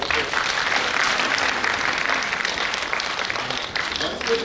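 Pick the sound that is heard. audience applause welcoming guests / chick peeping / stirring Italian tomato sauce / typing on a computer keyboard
audience applause welcoming guests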